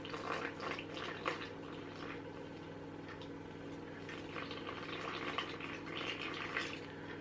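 Water pours into a bowl set on a kitchen scale for a brownie batter, a soft continuous trickle and splash with a faint steady hum underneath, quiet and close.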